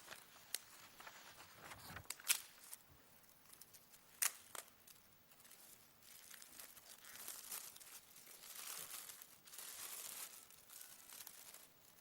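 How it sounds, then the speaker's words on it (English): A wrapped publication being unwrapped at a formal ceremony, with faint crinkling and tearing paper, scattered louder rustles and crunches, and quiet handling noise throughout in a large room. "May I now again invite Madam President to unwrap the publication."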